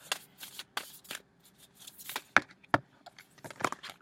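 Tarot cards shuffled by hand in a series of sharp riffling bursts and slaps, a few cards flicking loose, close and fairly loud with short pauses between.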